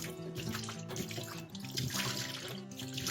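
Liquid pours steadily in a continuous splashing gurgle, close by, with no talking over it.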